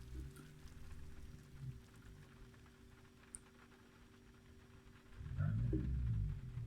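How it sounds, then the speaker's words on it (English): Faint, soft rain from the visual-novel game Witch on the Holy Night patters quietly at low volume, then a heavier low rumble rises near the end, with no speech. "I thought it's actually raining."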